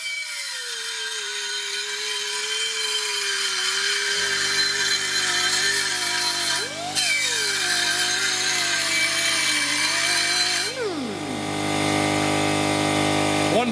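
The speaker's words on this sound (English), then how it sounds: "this will help you deburr everything really nice" A power tool deburrs sharp edges on a 2005 Ford F150 transmission, a loud whining grind with its pitch falling and rising as it bears down, joined after a few seconds by a steady lower motor hum.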